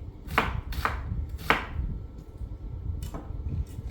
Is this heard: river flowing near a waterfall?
no